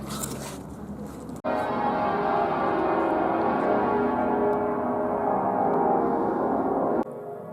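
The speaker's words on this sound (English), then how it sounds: "The bells were cool at first, but it's been going on for nearly an hour." Bells ring continuously in a dense, overlapping peal, loud and sustained, starting abruptly after a short quieter stretch.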